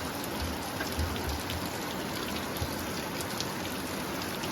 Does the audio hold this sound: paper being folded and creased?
no